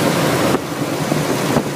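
An old Holden HQ engine idles a bit high, its steady rumble partly masked by wind buffeting the microphone outdoors, with no talking.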